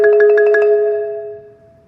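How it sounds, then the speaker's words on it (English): A marimba roll starts with both mallets striking together as a double stop at the written dynamic, then rapid alternating strokes ring close and clear before the bars sustain and fade out. "a double stop on the beginning, not an accent, just a double stop at the written dynamic, and then making sure to roll after that"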